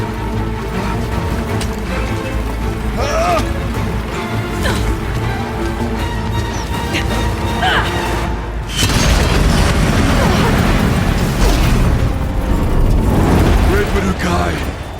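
Explosions and booms in the open-world action game Horizon Zero Dawn: The Frozen Wilds. The game audio is dense and loud throughout, with a heavier burst of crashing, rumbling blasts from about nine seconds on.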